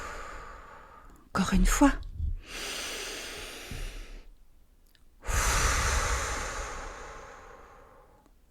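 Deep breathing during a children's yoga exercise: loud close inhales and long audible exhales, repeated a few times, with a brief spoken instruction between breaths.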